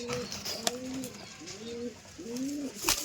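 Two black Siraji pigeons coo in repeated soft, rolling phrases, close by and fairly quiet, with a few sharp clicks between calls.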